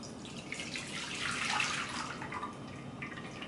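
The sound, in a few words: pouring dissolved liquid into an 8x8 inch pan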